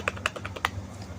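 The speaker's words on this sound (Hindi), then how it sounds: "इसका टाइपिंग एक्सपीरियंस की बात करें तो बिल्कुल मैकेनिकल वाली फील देता है" Several quick keystrokes tapped on an HP K300 backlit membrane gaming keyboard, crisp clicky presses in an uneven burst, close and clear with no talking.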